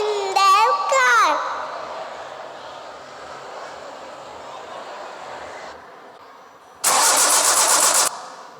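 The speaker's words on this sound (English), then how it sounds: "They always choose to travel by car." A car engine cranks and starts up before a trip to a shopping mall, a short whirring start followed by a steady idle, with an electronic chirp-like sound early on and a loud burst of noise near the end.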